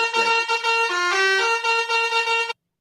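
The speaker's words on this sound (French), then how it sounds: "Sont où mes klaxons?" A car horn sound effect honks in a series of loud, close blasts with shifting tones before cutting off abruptly into silence.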